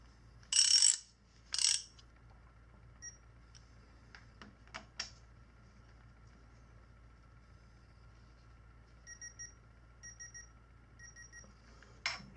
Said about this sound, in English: So I'm gonna go set my torque wrench.